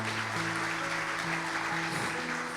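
A church congregation at a Sunday Holy Communion service claps in a steady wash of applause, with some faint tonal sound running beneath the clapping.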